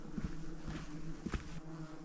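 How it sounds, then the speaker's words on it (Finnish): Giant horseflies buzzing nearby on a hot, dry fell hike, a low droning hum that swells and fades as they pass close, with no talk. "Jättipaarmoja."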